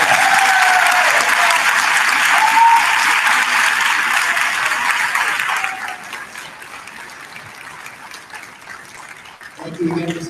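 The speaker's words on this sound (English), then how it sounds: "Let's give them all one more big round of applause." A school board meeting audience claps loudly for the class of 2018's top students, the dense applause thinning after about six seconds, with a brief voice near the end.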